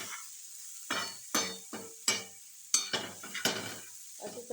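A spoon stirs prawn chutney in a pan in about eight rhythmic, close scraping strokes, each with a soft sizzle behind it, at a moderate volume with no talk.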